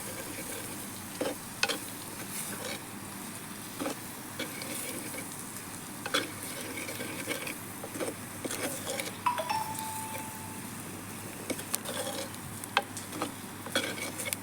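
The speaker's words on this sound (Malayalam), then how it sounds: "തക്കാളി നന്നായിട്ട് വഴന്ന് വരുന്നുണ്ട്" Chopped ripe tomato sautéing in spice masala for a toddy-shop style Kerala fish curry, a steady low sizzle with occasional spoon stirs and clinks against the pan, close and alone.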